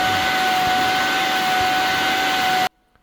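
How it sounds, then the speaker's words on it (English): A loud, steady whooshing roar of a spot carpet steam cleaner with a constant high whine, running continuously and then cutting off abruptly near the end. "It's obviously like a vacuum steam cleaner, so it's going to be loud."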